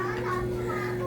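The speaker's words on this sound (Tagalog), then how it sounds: "maingay mga bata dito guys" Noisy children play nearby, their overlapping chatter and shouts forming a steady, continuous background din.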